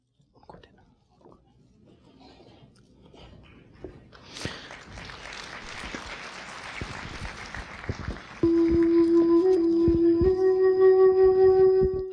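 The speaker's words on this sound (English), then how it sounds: "A big round of applause." Applause from an audience welcoming Sister Shivani builds from scattered claps into a fuller round of many hands, then continues under a sustained, loud musical tone that enters partway through.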